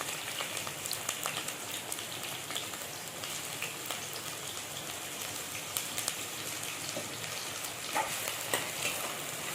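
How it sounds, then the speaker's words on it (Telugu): Onions and green chillies fry in hot oil, a steady crackling sizzle like light rain, with faint stirring, at moderate level and no voices. "దీన్ని బాగా ఫ్రై చేసుకున్నాం కొంచెం బ్రౌన్ కలర్లోకి వచ్చేలాగా"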